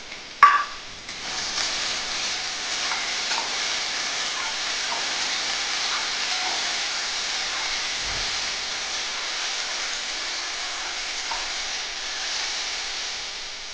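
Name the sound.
tomatoes frying with spices in a pan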